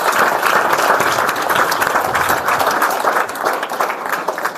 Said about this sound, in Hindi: शाबाश, ताली बजाओ इसके लिए।